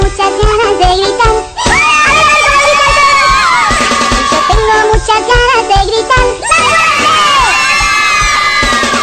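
Children shout and sing loudly along with a lively Spanish-language kids' action song, the group voices joining in over the continuous music with bursts of cheering.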